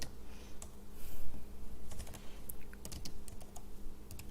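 Keys clatter in quick, uneven bursts on a computer keyboard as install commands for ROS Kinetic are typed, with close, steady typing and no talking over a low room hum.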